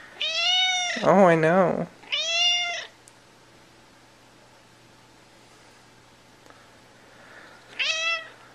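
A house cat gives several loud, drawn-out meows close by, with two in quick succession, a long quiet stretch, then one more, while a person speaks briefly.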